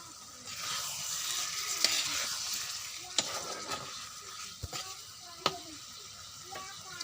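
A bay leaf drops into hot oil in a pan, giving a steady close sizzle with a few sharp clicks and knocks of utensils scattered through it.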